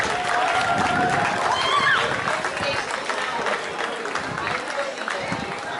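A crowd claps for Mrs. Riley at the opening ceremony of the Zimbabwe Senior National Championships at City Pool, a dense, steady round of applause with murmured voices and a reverberant indoor feel, slowly easing off.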